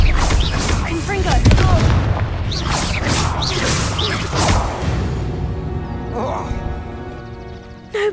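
The Confringo explosive spell from Hogwarts Legacy goes off in a string of loud booming blasts and crashing hits with whooshing swishes, layered over busy game action before tapering off toward the end.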